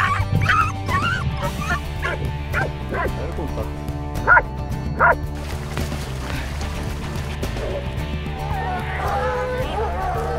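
Hunting dogs barking and yelping during a leopard hunt, several excited yips and whimpers scattered over a constant rumbling engine-like background, with a voice talking throughout.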